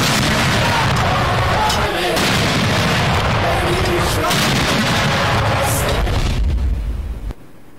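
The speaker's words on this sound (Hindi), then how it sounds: "वफाकी दारुल हुकूमत में 31 और चारों सूबाई दारुल हुकूमतों में 21-21 तोपों की सलामी" A ceremonial cannon salute of 21 or 31 guns marks Eid Milad-un-Nabi in Pakistan, with heavy, rumbling booms rolling one after another. The cannon fire is loud and continuous, and a news narrator talks over it.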